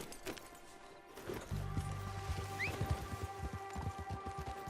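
Horse hooves clip-clop in Red Dead Redemption 2 as a steady run of sharp, evenly spaced thuds over several seconds, with an earlier clatter and a brief whinny-like call partway through, no speech.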